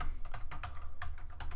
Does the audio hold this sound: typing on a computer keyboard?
yes